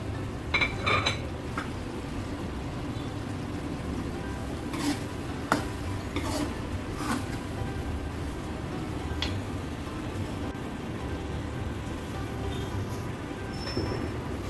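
Bottle gourd dal in a pot is stirred after coriander and chilli go in, with occasional clinks and scrapes of a utensil against metal over a low, steady background.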